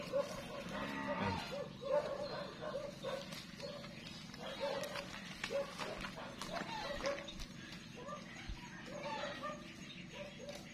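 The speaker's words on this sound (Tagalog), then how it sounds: "Yan po ang maghihila, yung kalabaw." A carabao (water buffalo) moos repeatedly while it hauls a sled loaded with fish. The low calls recur over steady background noise, with people talking and a dog whimpering nearby.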